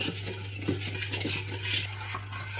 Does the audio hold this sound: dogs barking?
no